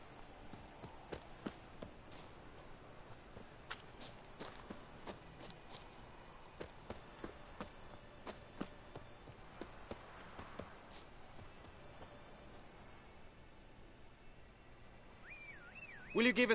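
Horse hooves clip-clopping at a walk in the Witcher 3 video game, a faint, irregular series of soft thuds under a quiet ambient bed, ending with a short louder burst.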